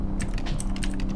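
Computer keyboard arrow keys are pressed in a quick run of close, crisp clicks, about eight taps spaced irregularly over a steady background hum.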